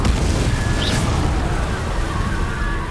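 A Confringo blasting spell in the video game Hogwarts Legacy erupts in a loud, deep, rumbling explosion that fills the moment with sustained booming noise.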